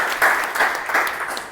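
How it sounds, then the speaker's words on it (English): Brief applause from an audience at a Toastmasters club meeting, many hands clapping in a dense, steady patter for a second and a half, close and fairly loud with no speech over it. "So let's give a good round of applause to both the evaluator."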